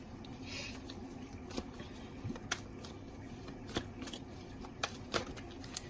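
Tarot cards being shuffled by hand, quiet soft riffling and papery rustles with scattered sharp little snaps and taps, close but faint against a low background hum.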